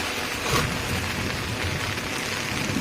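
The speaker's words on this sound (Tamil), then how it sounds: "மழை நிற்காம பேஞ்சிட்டு இருக்கு" Steady, heavy rain falls on a rooftop terrace, a continuous dense hiss of drops hitting the surface, with no voices.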